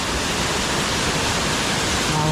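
Rampa Waterfalls in Andhra Pradesh pours down forcefully, making a close, dense rushing roar that stays constant across the short stretch.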